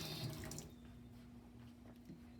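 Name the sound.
water poured into paint and stirred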